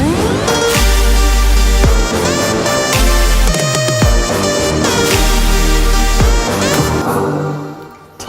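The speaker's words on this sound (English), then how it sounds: "In the drop, I have a lead, some super saw layers along with the brass layers." Electronic drop layering a bright lead, supersaw stacks and brass over booming 808 bass and punchy drums, playing a loud, dense melodic pattern that thins out and fades at the end.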